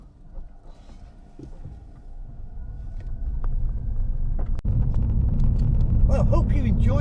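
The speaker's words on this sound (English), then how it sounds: "the braking performance of the Toyota Yaris GR Sport" Toyota Yaris GR Sport car during a braking test at about 20 mph, a low road rumble and engine drone that builds and grows louder and closer, with a voice talking over it.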